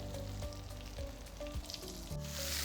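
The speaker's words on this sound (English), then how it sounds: "just put the mutton pieces and fry them in the ghee" Mutton pieces frying in about three tablespoons of ghee for an Indian masala mutton, a loud, dense, continuous sizzle close by with occasional stirring clinks, no voices.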